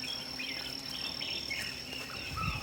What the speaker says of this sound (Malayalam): പൂവിൽ നിന്ന് തേൻ കുടിക്കുന്ന വണ്ടുണ്ട് ഇവിടെ.